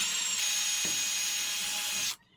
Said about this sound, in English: let's pre-drill these so they don't split on me